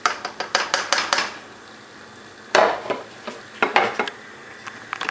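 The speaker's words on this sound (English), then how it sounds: "so you're going to stick the lid on it and boil." A metal lid is set onto a soup pot of mushrooms on the stove, giving a cluster of close clanks and scrapes, then a single sharper knock and a few lighter taps with quiet gaps between.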